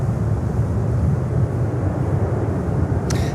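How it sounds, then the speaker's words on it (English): A United Boeing 737 jet arriving from Washington Dulles at Miami airport roars in a steady, loud broadband rumble that holds throughout, with a brief higher hiss near the end. "there is United coming in on a 737 from Washington DC, from Washington Dulles"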